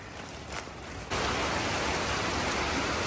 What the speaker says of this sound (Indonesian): Hujan deras kawan. Nah, lebat.